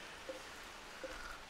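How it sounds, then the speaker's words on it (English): Steady soft rain from the RimWorld colony game, a faint even hiss with two brief tonal blips over it, no voices. "Oh, it's raining."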